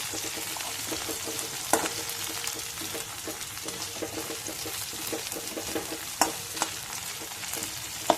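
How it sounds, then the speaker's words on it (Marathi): Potatoes and green chillies frying in a pan for sabudana khichdi, an even sizzle with rhythmic stirring scrapes and occasional louder clacks of the spatula, close by and free of talk. "इथं आपलं हे चांगलं बटाटे आणि मिरची चांगली परतली"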